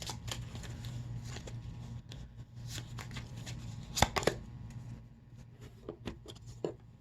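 A deck of Lenormand oracle cards is shuffled close up: a continuous soft papery riffle broken by sharper snaps and taps of cards, with no talk.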